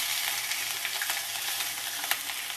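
Finely chopped onions and carrots fry steadily in a pan, a continuous close sizzle with faint stirring clicks and scrapes scattered throughout.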